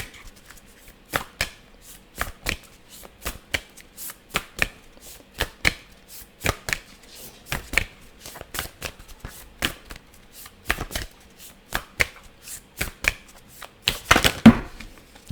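Rapid riffling bursts of playing cards being shuffled, repeated in quick clusters with short pauses between, close and crisp, no voices.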